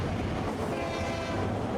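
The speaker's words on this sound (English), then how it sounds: "Watch out, there's a train in the foyer." A train rumbles steadily through a mansion foyer in the video game The Night Is Long, a continuous low, dense roar with rattling wagon noise at close range and no voices.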